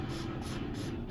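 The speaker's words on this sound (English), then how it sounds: "I'm gonna take some of my Jane Carter Solution Control Conditioner and just spray the braids that I cut." Jane Carter Solution Control Conditioner sprayed from a bottle onto cut box braids, a close, continuous hissing mist with faint pulsing pumps.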